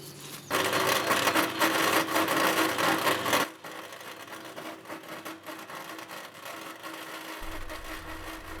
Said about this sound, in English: just giving it a quick sand and then a treatment after that.